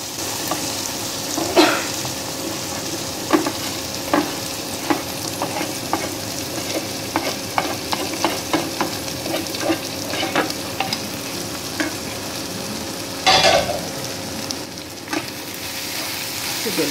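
Okra sizzles in a pan for bhindi sabzi. A steady frying hiss runs throughout, with regular spoon scrapes and clinks from stirring, close and alone, and a louder clatter near the end.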